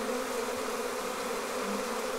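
Dense, steady buzzing of a honeybee swarm, drones included, heard close and continuous at a moderate level with no voices over it.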